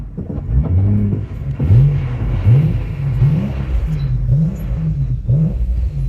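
Engine of a crashed Honda car revving repeatedly at an auto show, a steady rumble rising and falling in short pulses with a whine riding on top, loud and close with no talking.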